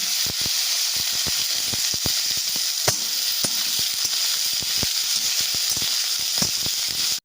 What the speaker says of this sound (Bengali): আলু আর বেগুন আমার ভালো করে ভাজা হয়ে গেছে